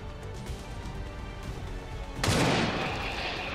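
Gunfire from a soldier in the turn-based tactics game XCOM 2 War of the Chosen: after a quiet stretch, a sudden loud shot or blast bursts in, followed by a lingering, noisy rumble.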